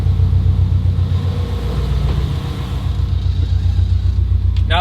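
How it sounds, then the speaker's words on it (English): A Subaru STI engine idles after a drivetrain swap, a loud, close, steady low rumble with faint power steering whine as the wheel is turned, ending in a brief higher-pitched sweep. "And the power steering sounds pretty good."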